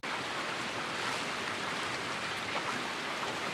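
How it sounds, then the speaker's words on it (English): Steady, dense rain hiss fills the recording evenly, a constant broadband patter with no voices or breaks. "Here I've used a couple of recordings of rain"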